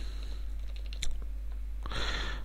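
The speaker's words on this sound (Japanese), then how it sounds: "これは大きいキーボードといって、" Key clicks from a large computer keyboard, a few sharp taps around the middle followed by a denser burst of typing, close and fairly quiet over a steady low hum.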